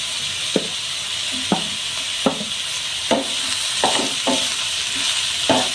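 Bitter gourd fries in a pan with onion, shallots and green chilli, giving a constant close sizzle broken by periodic scraping strokes of a spoon stirring the pieces.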